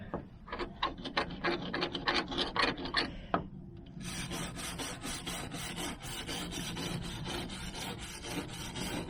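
A narrowboat hull is rubbed down by hand to strip rust and excess paint: close, rasping strokes in a quick rhythm at first, then a steadier, continuous scraping with no voices.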